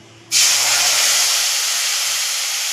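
Paste of cumin, green chilli and ginger hits hot oil in a pan with a sudden loud, close hiss that holds steady as it fries.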